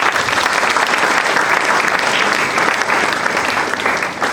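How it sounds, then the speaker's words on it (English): An audience at a law school moot competition bursts into sustained applause, loud and dense clapping from a large crowd that holds steady, then tapers slightly at the very end. "please a round of applause"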